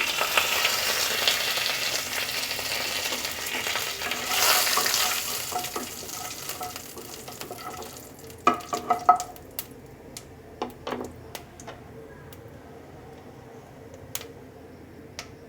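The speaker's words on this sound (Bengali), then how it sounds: "ফুরনে দিয়ে দেব দুটো তেজপাতা একটু গোটা জিরে" Bay leaves and whole cumin crackle in hot oil as a tempering for a chicken dish, a strong hiss that fades after several seconds into scattered sharp pops and ticks, close and without talk.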